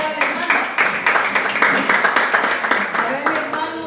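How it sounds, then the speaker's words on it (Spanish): Applause from a church congregation during a Bible class on personal evangelism, steady dense clapping for about four seconds with some voices mixed in. "aplausos para el hermano"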